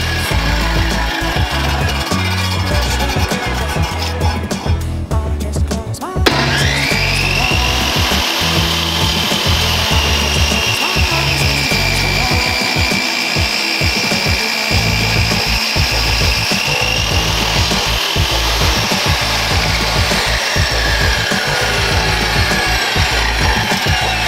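A table saw cuts rough-sawn wood boards clamped to MDF in a tapering jig to clean one edge, giving a loud, continuous whine with the blade biting through the wood for about twenty seconds after a brief spin-up, and no talking.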